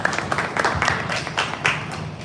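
An audience at an AI workshop claps in welcome, fairly close, with uneven, moderately loud bursts of applause.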